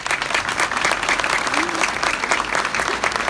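A crowd applauds steadily at an election office opening, dense clapping filling the whole moment at close range, with a voice briefly audible among it.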